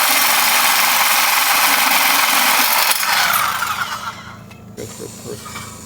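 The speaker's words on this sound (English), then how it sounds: "We got to cut every single one of these beams at that mark." A cutting disc or reciprocating saw cuts through a wooden beam at an outdoor skatepark build, a loud continuous grinding roar that drops away after about three seconds, leaving quieter rattles and scrapes.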